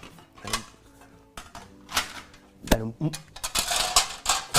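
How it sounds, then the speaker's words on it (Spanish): Plates and metal pieces clatter and clink in irregular bursts, knocking together loudly at close range, with a brief louder jangle near the end. "Me gusta el ruido que hacen las placas."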